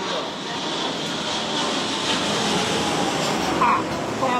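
Military drill aircraft pass overhead in Kaohsiung ahead of National Day, a continuous broad engine roar that holds steady and fairly loud across the whole stretch.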